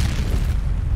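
A grenade blasts in the shooter game FEAR Combat, a loud, deep booming explosion with heavy low rumble that holds steady through the whole moment, no voices over it.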